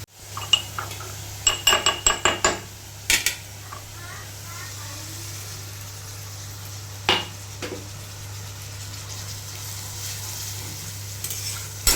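Masala frying in a pan in a home kitchen after a little water is added, with a steady close sizzle and sharp clinks and scrapes of a spoon stirring against the pan, several quick strokes near the start and a few later.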